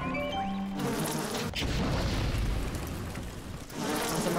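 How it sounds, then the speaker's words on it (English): Swarming bees from BioShock Remastered buzz in a dense, continuous drone, loud and close, with a few brief tonal game sounds at the start and no one talking. "Some more of the bees."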